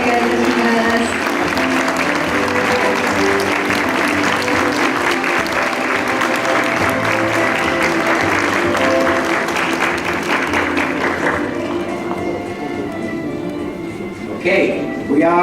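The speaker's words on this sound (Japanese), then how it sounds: "どうぞ皆さんもう一度メダリスト、そしてファイナリストたちに大きな拍手をお願いいたします。" Sustained applause from a large audience at the World Photographic Cup 2017 award ceremony, honoring medalists and finalists in the nature category; dense, steady clapping fills the hall for about fifteen seconds before thinning near the end.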